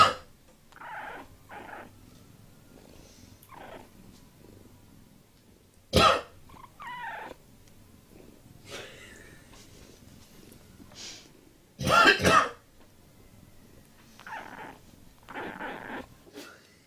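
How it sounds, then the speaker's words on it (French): A person coughs several times indoors, and after each cough a cat answers with short chirping meows and murmurs. Two sharp, louder bursts stand out among quieter scattered sounds, with soft purring in between. "On avait un chat génial qui répond quand on tousse, en fait. On tousse, il répond."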